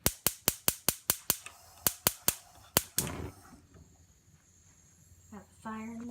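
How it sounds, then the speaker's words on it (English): A gas burner under a pan being lit: a rapid series of sharp igniter clicks, about a dozen in quick bursts, then a soft whoosh as the flame catches and a quiet hiss, with brief sounds near the end. "Now we're going to be lighting the pan."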